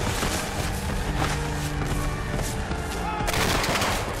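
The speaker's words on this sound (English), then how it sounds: "Their intense fire thickens the air with whizzing metal." Intense massed rifle gunfire in a Civil War battle at Shiloh, a dense continuous crackle of overlapping shots and bursts, loud and unbroken throughout, with heavier volleys near the end.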